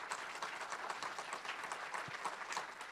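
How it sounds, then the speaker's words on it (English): Applause from a forum audience at a lecture event, a steady patter of many hands clapping, fairly soft and distant, with no speech over it. "Give her a round of applause."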